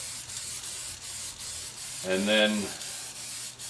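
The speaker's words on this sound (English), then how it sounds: "I'll give them a spray like this from 2 different angles on the top" An aerosol spray can hisses briefly over homemade rifle loading blocks, one short close burst standing out against steady background noise.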